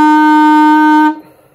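A clarinet holds a single steady F for about a second before stopping cleanly, loud and close, played alone.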